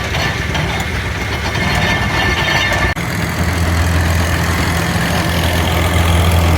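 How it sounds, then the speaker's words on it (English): Steady mechanical clatter and rumble of a working antique hay baler making square bales at a restored machinery show, with an engine drone, continuous and fairly loud, with a single sharp clunk partway through. "Making square bales. Stacking them up."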